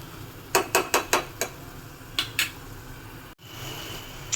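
A metal lid clanks onto a pot of chicken curry in a home kitchen with a quick run of five bright taps, then two more clinks a moment later, over a low steady background hum.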